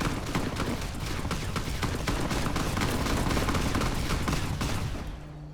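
Rapid, overlapping gunshots ring out in a chaotic firefight in Fallout New Vegas, where a shotgun loaded with coin shots joins the steady rattle before it tapers off at the end.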